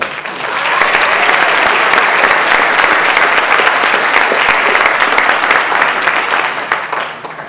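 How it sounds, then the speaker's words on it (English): Loud, sustained applause from a large audience at an annual meeting, dense clapping that swells in quickly, holds steady for several seconds and then tapers off. "So let's give her a round of applause."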